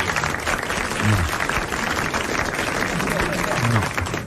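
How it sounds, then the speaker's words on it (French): Studio audience applause on a 1981 French television show, brisk and continuous for a few seconds, with a voice faintly heard alongside. "Il a droit à vos applaudissements."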